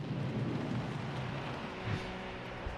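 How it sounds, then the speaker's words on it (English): Hailstorm with thunder, a dense steady roar of falling hail and rain with a low rumble beneath, heard at an even level throughout. "gets the car home just as the hail picks up"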